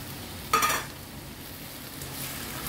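Eggplant and mushroom sautéing in a pan: a short, bright burst of stirring and sizzling near the start, then a faint, steady hiss of oil.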